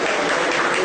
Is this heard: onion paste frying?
no